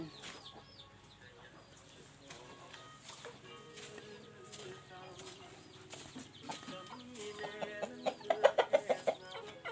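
Chickens cluck and squawk nearby, with a rooster-like call and a quick run of loud clucks near the end over faint background noise.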